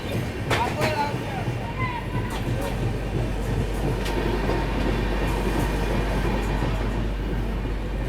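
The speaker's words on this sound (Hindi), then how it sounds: "तो चलिए दोस्तों, हमारी ट्रेन आ चुकी है दाहोद" A train on the Gujarat Sampark Kranti Express route rolls into Dahod railway station, a steady loud rumble of wheels and carriages with rhythmic clacking and faint squeals, while someone talks over the noise.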